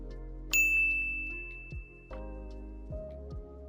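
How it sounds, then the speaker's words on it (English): A CapCut ding sound effect chimes once: a bright, clear strike whose high tone rings on for several seconds. Soft low thumps and a steady background hum sit underneath it. "I'm going to do ding sound effect"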